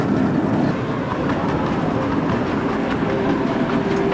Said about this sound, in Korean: 꼬마 열차가 이렇게 재밌는 것도 처음 느껴봅니다